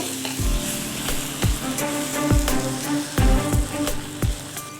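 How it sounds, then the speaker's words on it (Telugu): Drumstick chutney simmering in a pan on a low flame on the stove gives a steady, close sizzle broken by regular bubbling pops and soft clacks, with no talking. "స్టవ్ సిమ్లో పెట్టుకొని ఉడికించుకోవాలి"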